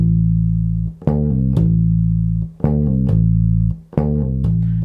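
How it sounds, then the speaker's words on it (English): An electric bass guitar plays a repeating riff of sustained low notes with quick pull-off and hammer-on note changes, cycling three times in a steady rhythm, close and clear with no talking. "So we're going to pull off the first note and hammer on the second."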